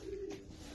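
A racing pigeon of the Kuijpers brothers' 314 line gives a soft, low coo, close and faint, with a brief swell near the middle of the short snippet.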